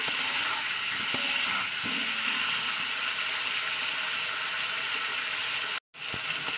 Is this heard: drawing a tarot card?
no